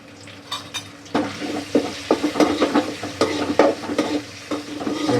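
Curry leaves fry in a pan while a chicken curry is cooked, a steady close sizzle broken by scraping stirs and irregular clinks of a utensil against the pan, with no talking.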